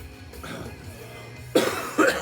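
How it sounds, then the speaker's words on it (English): Two sharp coughs sound close by in quick succession after a quiet stretch of low background noise. "Sorry about the cough."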